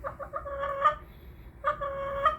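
A pet chicken indoors clucks in two short bursts of rapid, close, moderately loud clucks separated by a brief pause, with no talking.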